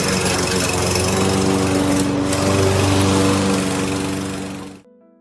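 A lawn mower engine runs close by with a steady, buzzing drone for several seconds, then winds down and cuts out abruptly near the end.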